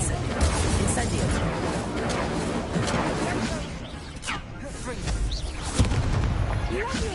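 The Incendio fire spell is cast repeatedly during combat in the Hogwarts Legacy video game, producing loud booming bursts and crackling blasts over a dense, continuous layer of battle noise.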